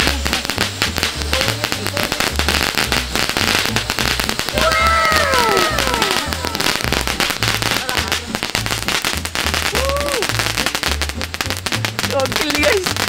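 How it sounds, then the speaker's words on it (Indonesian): A long string of firecrackers, lit by drone at night, pops and crackles rapidly for the whole stretch, with voices shouting and calling out over the din. "Nyalain petasan panjang pakai drone ya."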